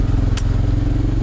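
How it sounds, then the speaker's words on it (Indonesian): Kawasaki Ninja 250 SL single-cylinder motorcycle with an aftermarket exhaust idling, a steady, deep, throbbing engine note held close and loud, with one brief sharp click partway through. "suara motor ini lebih bulat, lebih tebal karena ukuran kubikasi mesinnya kan beda"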